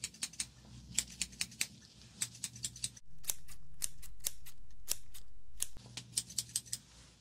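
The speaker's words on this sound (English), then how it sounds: "Correct, scissors." Scissors snip repeatedly in quick irregular bursts of sharp metallic clicks, close up and crisp, with a brief pause partway through.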